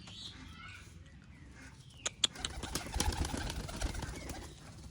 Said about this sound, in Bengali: দেখুন গাইস, পায়রাটা হাতে খাবার খেতে চলে এসেছিল, আবার নেমে গেলো